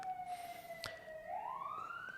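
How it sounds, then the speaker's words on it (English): Distant sirens wail faintly outside through an open window, one rising tone sweeping upward, with a quiet background hum and no talking. "Bloody sirens. I've got to have the window open because it's boiling."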